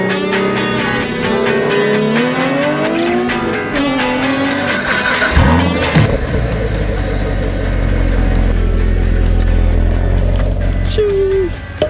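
A sports car engine, a Nissan 370Z or C7 Corvette, fires up and revs hard, rising and falling through loud sweeps before settling into a heavy, steady idle, with brief voices mixed in.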